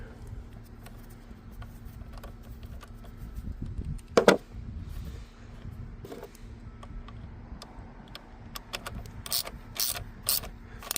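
A hand ratchet clicks in short bursts while tightening the hold-down clamp on a new battery in a Chrysler engine bay, the sharp clicks close and clearest near the end over a low steady hum.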